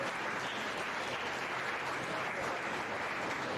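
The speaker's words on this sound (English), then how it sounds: "Give them a nice round of applause" Steady audience applause at a county meat goat show, a continuous dense patter of many hands clapping at moderate volume, with no pauses.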